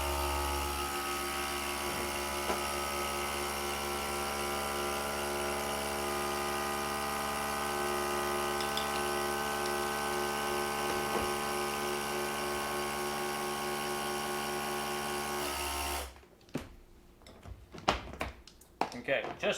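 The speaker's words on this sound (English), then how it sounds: "we're going to continue to suck out the rest of the air that's in here" A vacuum pump sucking the air out of a sealed bag drones in a steady, even hum for about sixteen seconds, then cuts off, leaving quiet handling noises.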